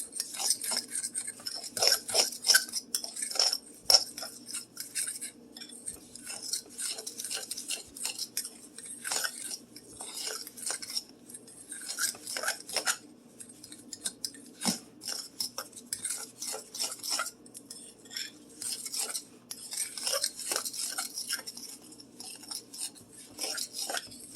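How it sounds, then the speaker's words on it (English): Batter being mixed in a bowl with a utensil, producing continuous soft scraping and clinking strokes at a steady rhythm. The sound is close and fairly quiet, with no speech. "And I want to mix it well."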